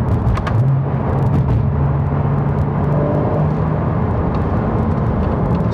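A 2014 Porsche 981 Boxster cruises in third gear on a public road, its flat-six engine a steady, close droning hum with a faint rising tone and road noise, no talk over it.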